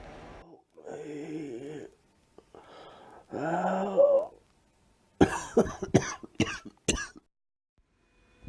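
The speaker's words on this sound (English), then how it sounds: "The man starts coughing" A man coughs in a harsh, rapid cluster of several sharp hacks near the end, after a stretch of breathy vocal sounds and gasps close to the listener.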